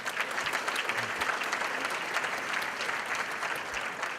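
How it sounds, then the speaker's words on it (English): Audience applause at a spring conference gala, a continuous, even round of clapping from a large room, moderately distant and steady throughout. "Let's give him one more round of applause."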